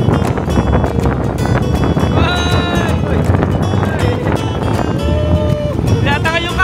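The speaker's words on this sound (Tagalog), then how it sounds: "Ganyan po kalakas ang hangin." Strong wind roars across the microphone on a coastal point, a loud continuous buffeting rush that never lets up, with faint voices and warbling tones showing through.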